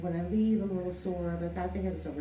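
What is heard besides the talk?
None of the usual background noises is heard.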